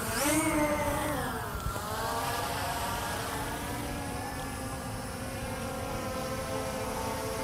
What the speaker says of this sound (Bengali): ড্রোনটা এখন আমাদের আকাশে উড়ছে